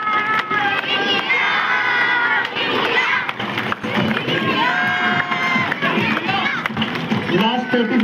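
A large crowd of skaters at a marathon skating world record event cheers and chants loudly and continuously, with shouting voices and children yelling together, close and dense throughout.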